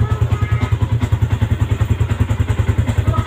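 Stock Yamaha Sniper v.2 motorcycle idling close up with a loud, even, rapid thumping exhaust pulse and mechanical clatter, holding a steady rhythm.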